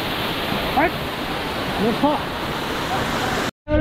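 A steady, loud roar of water pouring and crashing over rocks, with a few faint chirps above it and an abrupt cut near the end.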